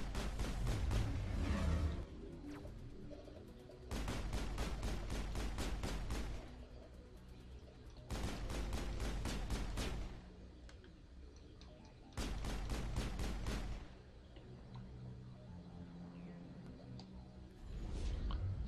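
Bursts of rapid gunfire in the video game Mass Effect, several dense volleys of a few seconds each separated by quieter stretches over a constant game soundtrack.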